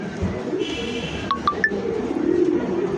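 A young pigeon, kept among fancy breeds such as Danish and satinette, gives soft coos and a few short bright calls nearby, heard alone against quiet room noise.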